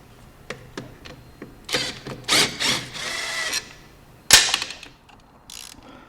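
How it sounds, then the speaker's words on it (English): A ratchet loosens an exhaust header bolt on a Vespa Sprint 150 scooter, with several close, sharp clicking runs and short pauses between strokes, heard without talking. "you can get up into that one with a ratchet, you know, or opening wrench. So pretty much go ahead and loosen your top one there"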